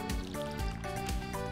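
Plants being watered in a video game: a steady trickling, pouring water sound, close and even in level, laid over layered musical game tones, with no one talking.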